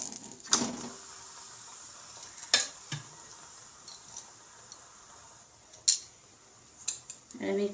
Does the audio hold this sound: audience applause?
no